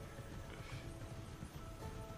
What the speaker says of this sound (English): The automaton horse lives to ride again